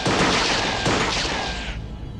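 Gunfire erupts in a loud, dense burst of overlapping shots and booms, harsh and close, continuing for about two seconds before cutting off abruptly.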